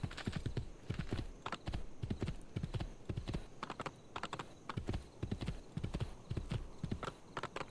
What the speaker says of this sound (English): See, the horse, I think I heard it walking over to us anyways.